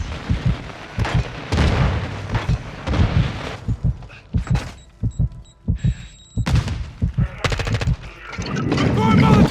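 Gunfire in the Call of Duty Modern Warfare II video game, loud repeated bursts and single shots in rapid, uneven clusters with explosions, close and dense throughout, with game voice callouts in between.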